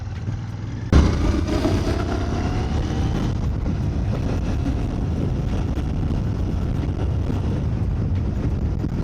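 Royal Enfield Bear 650 scrambler with its 650 engine, ridden through forest and lane splitting: a steady, wind-buffeted engine drone begins abruptly after a second and runs loud and unbroken, with no talking.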